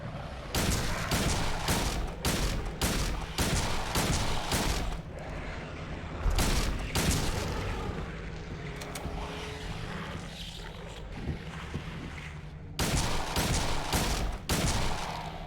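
Rapid bursts of handgun fire from Silent Hill 2, sharp repeated shots clustered in volleys with short pauses, loud and close, a quieter stretch mid-way before another run of shots.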